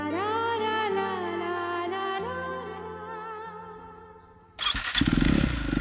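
A motorcycle engine starts with a sudden loud burst near the end and runs on, close by, after a stretch of music.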